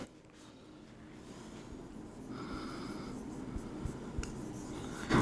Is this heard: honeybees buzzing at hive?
no